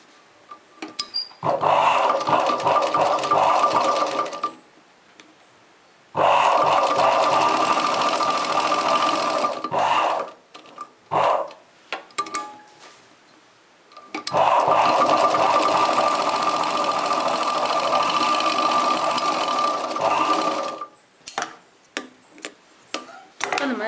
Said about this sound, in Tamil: இதிலேருந்து ஒரு கால் இன்ச்சு தையல் போட்டுக்கோங்க.